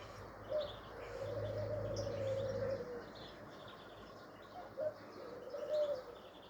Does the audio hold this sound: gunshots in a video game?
no